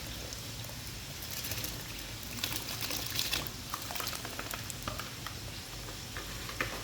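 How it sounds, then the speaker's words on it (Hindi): Drained rice tipped into a pot of boiling water for chicken leg-piece biryani, giving a steady bubbling, hissing wash with light stirring and splashing, moderately close and without speech. "अभी चावल ऐड करेंगे।"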